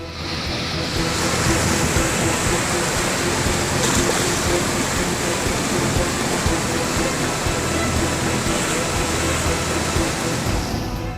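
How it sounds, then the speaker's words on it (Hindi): Floodwater from heavy, continuous rain pours at speed along submerged roads in Betul, Madhya Pradesh, a loud, steady roar of rushing water running unbroken throughout. "नदियों का पानी तेज रफ्तार से सड़कों पर बह रहा है"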